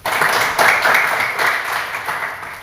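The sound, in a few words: audience applause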